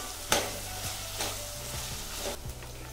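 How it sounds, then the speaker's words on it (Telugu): Ginger garlic paste sizzles in hot oil in a pan, a close, steady frying hiss with a few soft stirring scrapes and faint clinks. "1/2 స్పూను అల్లం వెల్లుల్లి పేస్టు, పచ్చివాసన పోయే వరకు వేగనిద్దాము"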